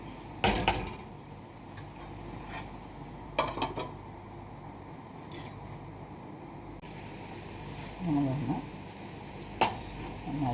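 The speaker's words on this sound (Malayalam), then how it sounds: "ഇളക്കി ഒന്ന് യോജിപ്പിച്ച് കൊടുക്കാം ആയിട്ടില്ല നന്നായിട്ട് വേവട്ടെ" Beetroot curry with yogurt being stirred in a pan, giving a few scattered scrapes and clinks of a spoon against the pan, with quiet pauses between them and no talking.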